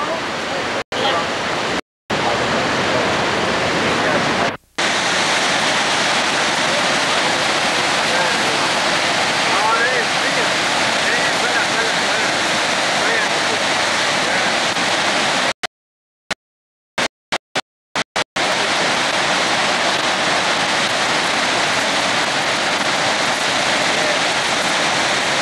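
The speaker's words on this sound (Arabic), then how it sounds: "علو المي هون يعني علو الشلال 25 متر اصلا جاي بقوه النهر" A roaring waterfall about 25 metres high, fed by a powerful river, pours as a loud, dense, continuous rush up close, broken by a few abrupt dropouts, with speech heard over it.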